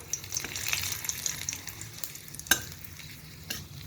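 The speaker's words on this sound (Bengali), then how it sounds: "জিরে ফোড়ন দিয়ে দেবো, কারণ আমার তেলটা গরম হয়ে গেছিলো" Cumin seeds, dried red chili and a bay leaf crackle and sizzle in hot oil for a fish curry tempering, a steady close hiss with scattered pops and a few sharper spikes, stirred now and then.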